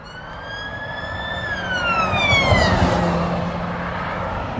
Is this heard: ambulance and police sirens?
yes